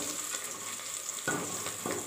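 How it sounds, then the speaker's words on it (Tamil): Garlic fries in hot oil in a pan, a faint steady crackling sizzle with two sharper bursts as it is stirred, no talk. "இப்போ ஒரு பூண்டு அப்படியே கிண்டி விட்டால் பூண்டு நல்லா முறுமுறுன்னு வதங்கட்டும்"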